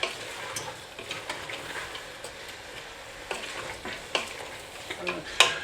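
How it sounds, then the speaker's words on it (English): A spoon stirs vegetables in a pot before lentils go into a vegetable soup, making soft scraping and clacking strokes with occasional sharper knocks over a low background sizzle. "Give them a stir, make sure they're nice and coated."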